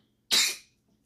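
A single sharp sneeze bursts out close by, loud and breathy for about a third of a second before fading into quiet.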